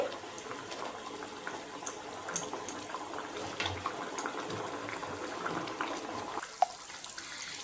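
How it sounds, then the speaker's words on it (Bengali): Katla fish simmers in a pan on a gas stove, a steady bubbling, watery boil with small pops throughout, close and continuous with no talk. "এই মাছটা দিয়ে একটু ফুটবে"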